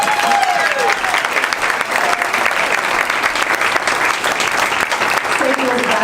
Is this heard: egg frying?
no